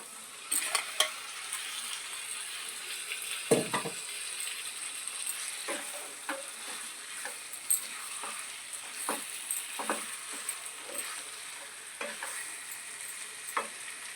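Onions and washed chicken pieces frying for a chicken curry, a steady soft sizzle under repeated scraping and clinking stirs in the pan, with no voices.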